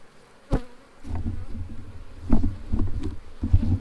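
Honey bees buzzing around open hive boxes outdoors at a new location, a dense low drone close by, with soft knocks and handling bumps, wind and no speech.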